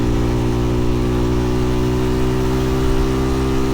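Motorcycles ride along a road on the way to a school in a remote area. A loud, steady engine drone runs throughout with strong low harmonics and no pauses.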